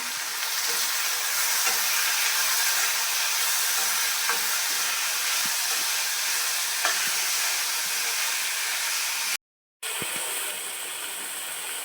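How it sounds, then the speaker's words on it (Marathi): Tomatoes sautéing with onions in a pan give a steady, close hiss of sizzling throughout, with a few faint clicks and a brief dropout near the end, no voices. "आता आपण त्या टोमॅटो टाकतोय टोमॅटो छान परतून घेऊया"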